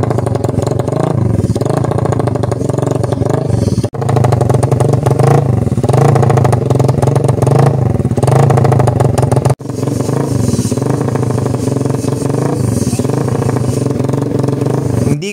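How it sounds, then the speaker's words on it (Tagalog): Yamaha Raider motorcycle fitted with an SC Project exhaust pipe, engine held at a loud, steady rev for long stretches with two brief dips, close by and alone without talk. "Inaasahan ko nga sa pipe na to mga bossing na maganda talaga yung kakalabasan ng tunog nito."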